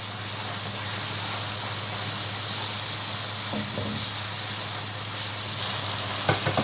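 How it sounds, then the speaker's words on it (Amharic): Spices and a spoonful of tomato salsa frying in a pan give off a steady, close sizzle with a faint hiss, heard alone with no voices. "ይኸው ተመልካቾች እንደዚህ እየተቆላላ ነው።"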